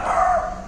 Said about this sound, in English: that dog doesn't want me here.